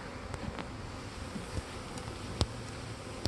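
Honey bees from a newly installed package hum and buzz in a steady, soft swarm drone at a hive, with faint clicks and taps of hive parts scattered throughout.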